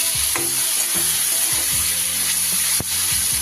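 Ginger and green chilli paste sautés in a pan for a coconut banana flower curry, giving a continuous loud sizzle with repeated rhythmic scrapes and clinks of stirring, and one sharp knock near the end.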